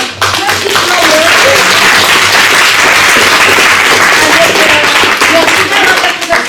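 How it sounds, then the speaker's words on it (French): An audience gives loud, sustained applause to award winners, including a school group honoured for a performance, steady dense clapping filling the hall for several seconds. "ils méritent les applaudissements que vous venez tout juste de leur donner"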